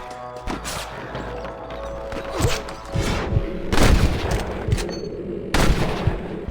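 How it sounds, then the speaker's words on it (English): Gunfire in the western video game Red Dead Redemption rings out as several loud sharp shots and booms at irregular intervals, some echoing, amid game ambience. "I can hear more gunshots."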